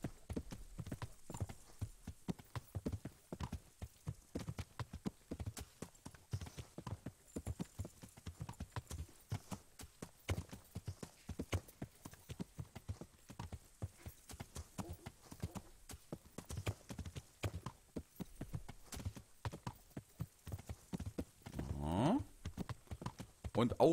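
Horse hooves in Kingdom Come: Deliverance clip-clop in a fast, unbroken rhythm throughout, close and steady, as if riding along a path.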